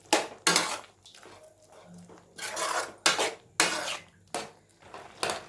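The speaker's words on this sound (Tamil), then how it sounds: "எல்லாம் சேர்த்து நல்லா கலந்து விட்டுக்கோங்க" Cauliflower gravy with ground paste is stirred in a pan, a spoon scraping and clattering against the metal in several loud, uneven strokes with brief quiet gaps between them.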